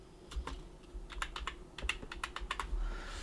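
Text being typed on a computer keyboard, a quiet close series of irregular key clicks in short bursts over a few seconds, with no talking.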